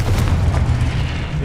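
A Confringo fire spell explodes in Hogwarts Legacy, a deep, rumbling boom with sustained low roar through the short burst of combat.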